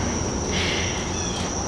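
A constant high-pitched cricket trill fills the air, steady and unbroken, with soft background ambience and no one speaking.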